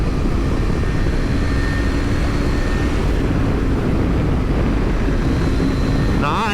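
A KTM 390 Adventure motorcycle's single-cylinder engine revs under way, with a loud, continuous engine drone and wind noise mixed with the rider's voice.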